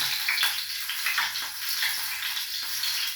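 Garlic sizzling steadily in a hot pan at the start of an ampalaya lunch dish, a bright continuous crackle with small popping bursts, close and without talk.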